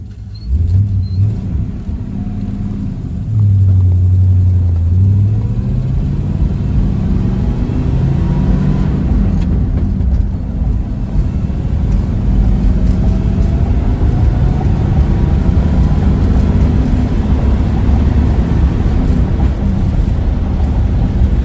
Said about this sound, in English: Through the gears, it has no problem whatsoever getting up to speed